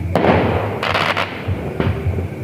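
New Year fireworks burst during a family camping night, several sharp cracks with crackling tails in under three seconds, fairly close and loud against a steady outdoor background.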